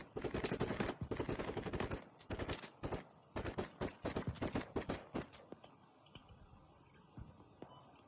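Rapid bursts of automatic gunfire in the military shooter game Squad crackle in dense volleys, then thin out into scattered distant shots over a low background rumble.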